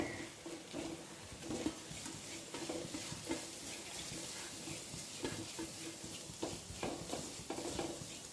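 Grated coconut fries in a pan for a prawn stir-fry, with a soft continuous sizzle under repeated scraping strokes of a spoon, steady and fairly close, and no voices.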